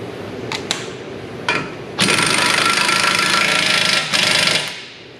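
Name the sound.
tightening axle nut on Hyundai Kona EV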